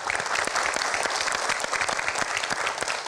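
Studio audience applause welcoming a guest onto a sahur show, a dense, steady wash of many hands clapping, loud and sustained throughout.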